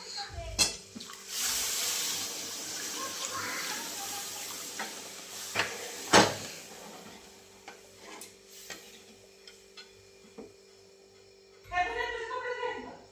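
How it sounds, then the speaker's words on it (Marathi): Hot water poured into a pan of sizzling, stirred potato vegetable on a gas stove, giving a steady hiss and bubbling with scattered clinks, and a voice speaks briefly near the end. "आता गरम केलेलं पाणी टाकते"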